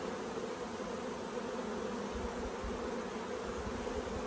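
Honey bees buzzing inside an opened hive full of bee bread, capped brood and drone cells, a steady dense hum filling the air close by with no break.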